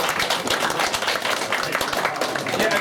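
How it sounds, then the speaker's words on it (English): A small crowd applauds together after a journey event, a dense steady patter of hand claps that fills the whole stretch, close and moderately loud, with no clear voices over it. "Give yourselves a round of applause."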